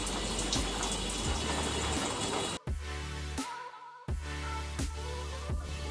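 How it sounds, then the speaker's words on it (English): Water runs steadily from a tap while toner is rinsed out of hair at home, a close, continuous splashing flow broken by two brief interruptions, with no talking. "I think I rinsed it out as best as I can."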